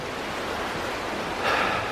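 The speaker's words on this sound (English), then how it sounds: "that is a hole that the very fast flowing water is running by" Fast floodwater rushes through a hole at the flooded Glen Helen covered bridge, a steady broadband roar with a brief louder surge near the end.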